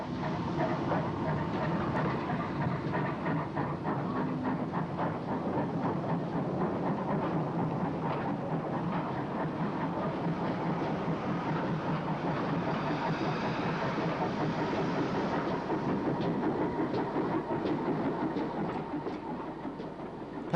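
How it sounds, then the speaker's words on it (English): The Monmouth auto train pulls away from the Bay platform at Ross-on-Wye in 1959, with a steady, continuous rumble of the engine and wheels on rail holding for twenty seconds at a moderate distance, no voices. "the Monmouth auto train left from the Bay platform"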